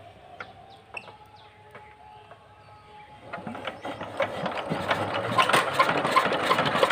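An engine that starts but will not keep running: a quiet opening with chicken or bird calls, then from about three seconds a rough engine noise swells and grows louder, continuing to the end.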